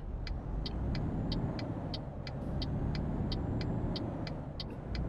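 A truck in Euro Truck Simulator 2 drives off with a steady, loud engine rumble, while a regular high ticking, like a turn indicator, repeats throughout with no talk.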